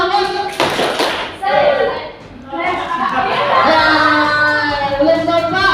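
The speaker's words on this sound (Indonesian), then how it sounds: "Tepuk semua" Schoolchildren clap together in a classroom on a teacher's cue, a quick burst of loud, close hand claps that is followed by children's voices and chatter.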